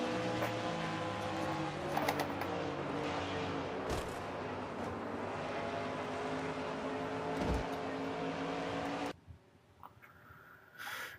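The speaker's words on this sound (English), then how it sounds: "On board, Cole Deaver's car." On-board engine sound of a stock race car in a NASCAR-style racing video game, a loud, continuous high-revving drone with shifting pitch that drops away near the end.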